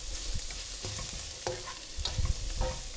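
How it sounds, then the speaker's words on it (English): Onions sizzle in a pan for a chicken curry while ginger, garlic and chili go in, with clattering stirs and scrapes of a spoon over a quiet, steady fry. "Now I'm going to add the ginger and garlic and also the chili."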